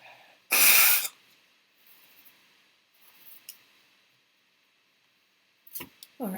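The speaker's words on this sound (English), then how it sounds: "So I just need to blow my nose for a second." A person blows their nose in one loud, breathy burst near the start, followed by quieter sniffs and faint rustles, then a couple of short sharp noises at the end.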